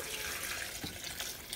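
Water pours steadily into a blender jar holding boiled beef tripe, onion and garlic for menudo, a soft continuous splashing trickle close by with no talk over it.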